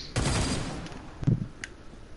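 A few gunshots fired into the air in the online battle game Paragon: one loud, sustained burst followed by two shorter, weaker shots, close and with no voices over them.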